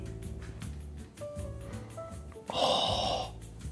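A short, sharp sniff at a taro boba drink, sitting close and fairly loud in the middle of the clip over steady background music.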